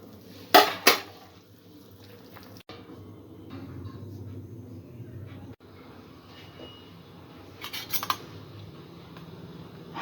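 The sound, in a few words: breaking boiled chicken into pieces in a pot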